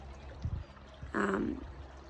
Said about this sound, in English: I'm really drawn to be playing with the water for a few minutes